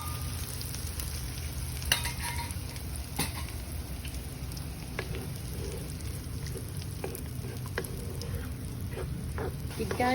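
Eggs frying in a pan with water spinach (kangkong), a steady crackling sizzle with occasional sharp pops and spatula stirring clicks, continuous and close.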